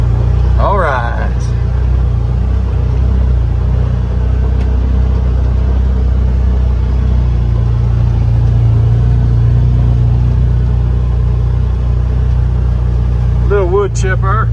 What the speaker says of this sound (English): Little wood chipper. It's actually not little, it's a beast.